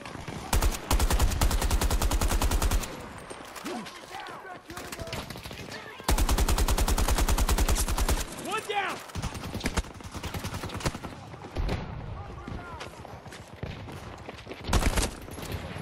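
Battlefield 2042 automatic gunfire rattles in two long loud bursts with scattered shots, explosions and game noise between, while voices talk over the action.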